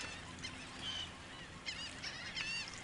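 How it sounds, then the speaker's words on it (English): Noisy seabirds honk repeatedly by the sea in irregular, moderately loud calls over steady wind and surf noise, with no talk. "Oh, those birds are noisy."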